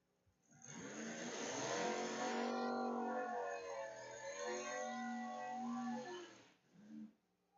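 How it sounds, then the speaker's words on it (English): A 1988 Mazda RX-7 launching in a drag race against another car, a faint engine note climbing in pitch then holding a steady drone before dropping away. "I'll move on now to Colton in the 1988 Mazda RX-7, going up against her car in the AMA lane."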